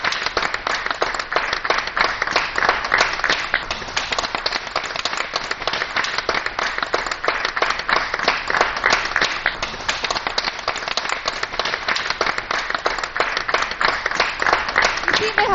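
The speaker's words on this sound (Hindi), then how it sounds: "जोरदार तालियां श्री राम शंकर अवस्थी जी के लिए" Loud, dense applause fills the hall at a DD Uttar Pradesh award ceremony in 2017, a continuous roar of many clapping hands that holds steady for the whole stretch.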